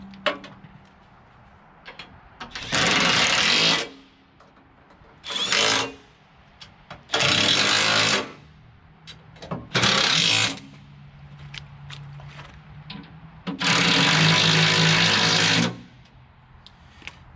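A Halverson HWP-120 firewood processor works through loud, sustained mechanical bursts of two to three seconds each, separated by a quieter low idle, with no talking.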